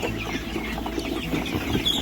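A crowded flock of chickens on a poultry farm clucks steadily, overlapping calls forming a constant noisy murmur.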